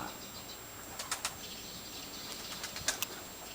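Several quick bursts of wing flapping as domestic pigeons come down to land, fairly close, with short gaps between flurries and a quiet outdoor background.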